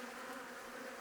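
Honey bees buzz in an open hive, a dense, continuous close-up hum with no pauses.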